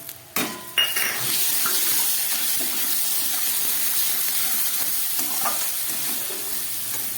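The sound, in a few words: frying potato, coconut and chickpeas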